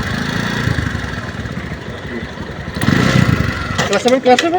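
A Honda motorcycle idling and running while a novice learns to ride, a steady mid-pitched engine drone that swells near the end, with people talking close by over it.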